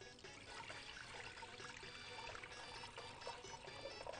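Water pours and splashes continuously over bulgur being rinsed in a kitchen, a steady close trickling rush with no talking.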